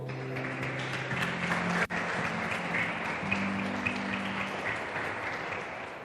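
Church congregation standing and clapping for the Lord, a continuous crowd applause with faint sustained music or hum beneath and one sharp click partway through.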